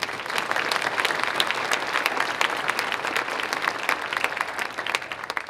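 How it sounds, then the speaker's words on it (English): A crowd at the Coeur d'Alene State of the City address applauds with dense, sustained clapping that holds steady and fairly loud for several seconds. "give them a round of applause"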